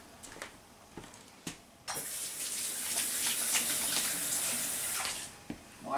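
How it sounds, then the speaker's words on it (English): Water from a kitchen tap runs steadily for about three seconds while hands are washed during mashed potato cooking, framed by a few soft clicks and knocks before and after. "Okay, wash my hands."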